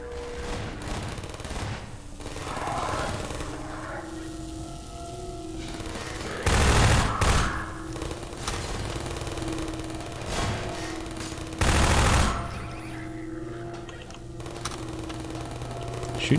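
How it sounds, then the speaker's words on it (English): Automated turrets fire in Half-Life 2, rapid rattling bursts repeating across the scene with heavier booming blasts breaking in twice, loud and close amid ongoing game noise. "Shooting my turrets, yo."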